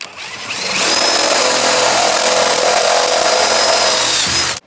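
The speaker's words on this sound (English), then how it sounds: "I'm gonna drill 2 holes in here" A power drill whines steadily at high speed for several seconds, drilling holes in a lawnmower transaxle skid plate, loud and close, then cuts off abruptly.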